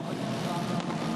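Formula 4 race cars on the starting grid at Townsville, engines revving in a dense, loud buzz mixed with wind noise, while a commentator talks.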